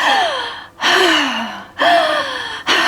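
A person imitates a child's sharp inhalation while using medicine, demonstrating three loud, close, gasping breaths in, each cut off before the next, with no other sound.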